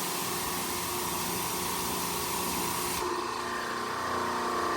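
A Canpump Electrojet CR3000 electric pressure washer sprays steadily, a loud, continuous broadband hiss over a motor hum, with a slight shift in tone partway through.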